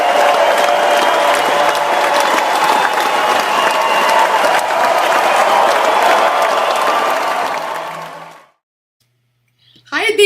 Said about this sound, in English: Let's give a big round of applause and welcome Deepa on the world stage.